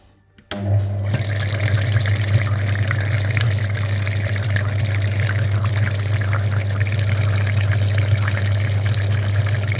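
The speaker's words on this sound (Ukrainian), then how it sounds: "Миємо ще передній радіатор." Steady rush of water flowing over and through the front radiator of a KIA Carens during a cooling system flush, a loud continuous wash that starts abruptly and holds with no talk.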